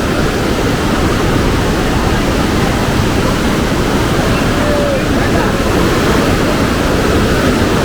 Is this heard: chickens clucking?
no